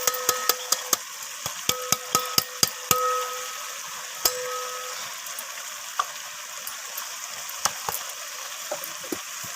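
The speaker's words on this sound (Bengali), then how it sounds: "তো আবারও সমস্ত কিছু এইভাবে কষিয়ে নিচ্ছি।" Chicken sautéed with freshly ground spice mix in a pan, a steady close sizzle broken by sharp clacks of a spatula against the pan, quick at first and then sparser.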